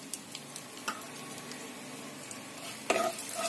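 Cumin, mustard and fenugreek seeds sizzle softly in hot mustard oil, a faint steady crackle with a few light spoon clicks and a sharper scrape near the end.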